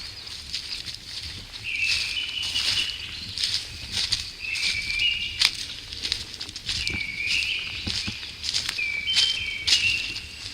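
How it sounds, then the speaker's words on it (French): Birds on a limestone hiking trail flutter and call, with repeated bright chirping phrases and soft wing flaps and rustles at close to middle distance over a quiet outdoor background. "les oiseaux s'en donnent à cœur joie"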